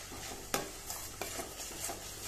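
A spoon stirs and scrapes mint pulao gravy sautéing in a pan, giving a few sharp scraping strokes over a soft, continuous sizzle.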